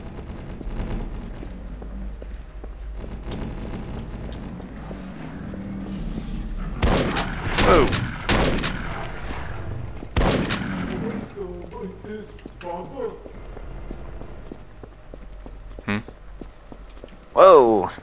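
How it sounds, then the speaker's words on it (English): Sentry turret gunfire in the video game E.Y.E. Divine Cybermancy, heard as a few loud bursts in the middle of the clip amid game noise, with a voice talking throughout. "That is a sentry turret."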